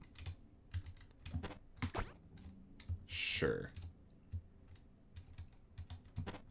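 Computer keyboard keys clack and click in irregular bursts while Jump King is played, close and fairly crisp, with a short spoken word and a breathy sound partway through.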